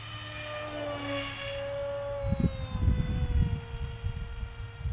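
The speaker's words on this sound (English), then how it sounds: "Gliding, gliding, gliding. Airbrake." A model F-35 RC jet glides overhead with its airbrake deployed, giving a steady whine whose pitch slowly falls, while gusty wind rumbles across the microphone in the second half.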